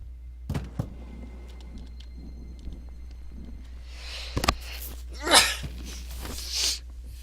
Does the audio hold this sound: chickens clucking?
no